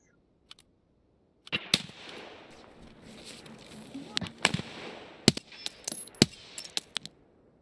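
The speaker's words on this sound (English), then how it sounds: "He wasn't shooting at me, was he?" Gunfire in a first-person shooter video game: scattered sharp cracks that start sparse, then come in irregular bursts of single shots over a hissing bed, moderately loud and close.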